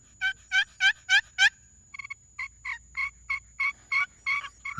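A wooden turkey box call played by sliding the paddle gives about ten raspy, high yelps, close and clear, in a quick run of five and then a steadier run of five more, with no talk.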